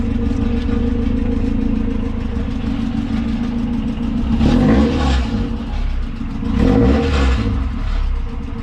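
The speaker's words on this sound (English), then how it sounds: "The cherry bomb is broken on the inside, and then this muffler, I don't know, it's pretty deep. Go rev it a little bit." Acura DA9 Integra engine idles with a rough exhaust note through a broken cherry bomb and deep muffler, then is revved twice in loud, raspy surges with a rattling edge, close by and without talk.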